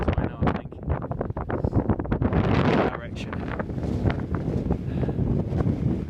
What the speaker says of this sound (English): On the way back to the car, really, really windy.